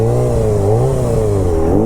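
Motorcycle engine revving steadily while riding sit-down circles in a lot, a loud, continuous close-up hum with slight rises and dips in pitch throughout.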